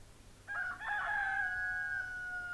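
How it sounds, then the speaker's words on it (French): A rooster in a garden, accompanied by a hen, lets out one clear drawn-out crow that rises and holds before fading, fairly close against a quiet background. "un coq fait notre bonheur accompagné d'une poule."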